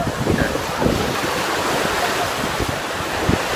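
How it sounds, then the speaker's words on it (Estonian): Ocean waves wash along the shore on an Italian coast, a steady broad roar of surf mixed with heavy wind buffeting the microphone, close and continuous. "nii head lained on neil ju"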